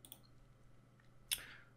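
A single sharp mouse click on an OK button at a Windows Server 2019 computer, crisp and close, arriving near the end after a stretch of faint room hum.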